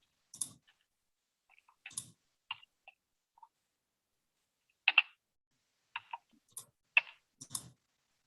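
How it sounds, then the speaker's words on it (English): Mouse buttons on a computer clicked during a town council meeting, sharp isolated clicks arriving in small irregular bursts with gaps of quiet between them, close and fairly faint, with no talking. "I'm still clicking on buttons just to see"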